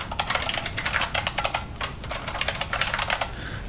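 A computer keyboard during coding, typed quickly and steadily in close, crisp bursts of clicking keystrokes with a short pause partway through and no voices.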